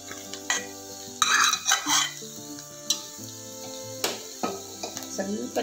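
Bitter gourd gravy is stirred in a pan with a spoon scraping and clinking against the metal in irregular strokes, over a soft sizzle of tempering, close and fairly loud, with no talk.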